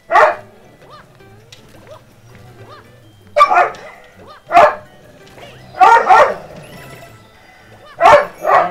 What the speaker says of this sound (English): Pardon the dogs in the background.